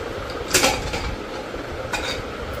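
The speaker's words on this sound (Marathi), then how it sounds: "आई उघड द कुकर." Pressure cooker lid being opened after cooking masala rice: close metallic clanks and scrapes of the lid, two distinct knocks over a soft kitchen hiss.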